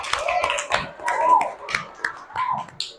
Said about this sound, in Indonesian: Kita tepuk tangan untuk diri sendiri dulu.